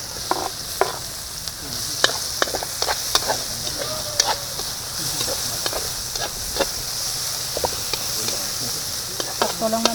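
Ginger, garlic and onion sautéing in oil for a fried lapu-lapu (grouper) dish, a steady close sizzle broken by frequent clinks and scrapes of a utensil stirring in the pan, with no talk.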